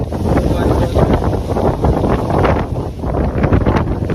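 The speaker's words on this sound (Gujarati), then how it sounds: "બાઈક પવન એટલો છે ને" Strong wind on Sana Dungar hill buffets the microphone in heavy, rumbling gusts that rise and fall, loud and close.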